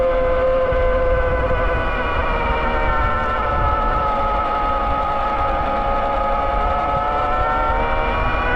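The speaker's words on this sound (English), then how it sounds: "you can hear the, you know, that whine of the motor is definitely there" Steady high-pitched electric motor whine from a Himiway Rhino e-bike under throttle at around 12 mph, a loud continuous tone with layered harmonics that shifts slightly in pitch, mixed with road and wind rumble.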